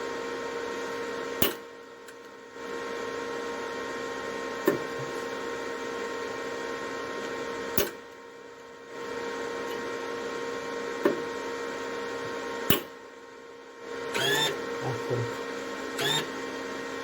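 A sewing machine runs steadily, stitching fabric with thread fed from a bobbin, its hum continuous through the clip and broken by a few brief pauses and clicks, with faint bumps of handling near the end.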